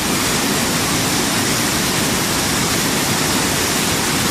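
River water rushing loudly through Avalanche Gorge in Glacier National Park, a steady, dense roar of whitewater that continues without a break, close and full.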